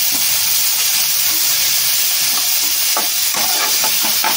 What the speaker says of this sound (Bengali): আর একটু এর সঙ্গে একটু নেড়ে নিচ্ছি চিংড়ি মাছটাও এর সঙ্গে আমি বেটে নেবো